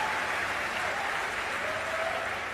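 An audience claps through a live talk at an event in Hyderabad, a steady, fairly soft wash of applause with no speech heard over it.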